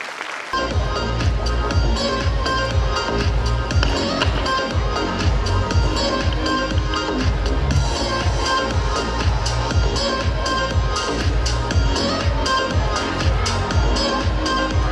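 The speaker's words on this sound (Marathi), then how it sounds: "सगळ्यांनी टाळ्या वाजवून त्यांचं अभिनंदन करावे." An audience at a school annual day in India claps steadily together, and the dense, loud applause is sustained without pause after a brief quiet start.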